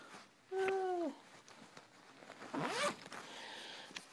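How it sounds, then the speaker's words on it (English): Zipper on a Vera Bradley wallet pulled in two short bursts, a sharp zip near the start and another about two seconds later, close and fairly loud with faint rustling between. "hang on, it's zipped"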